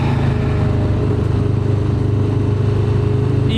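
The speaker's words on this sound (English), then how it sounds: "This Dyna is still ripping." An older, high-mileage Harley-Davidson Dyna motorcycle engine runs in a steady, loud, close throbbing rumble, held at a constant pitch with no clear rise or fall.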